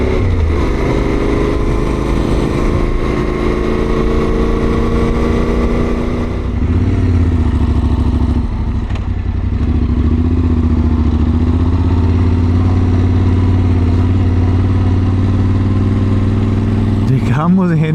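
A motorcycle climbs a mountain road on the Tail of the Dragon, its engine droning loud and close in a steady, shifting hum that dips briefly mid-ride, with wind rush and no clear voices.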